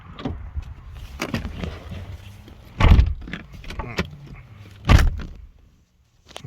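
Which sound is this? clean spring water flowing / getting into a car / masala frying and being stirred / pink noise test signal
getting into a car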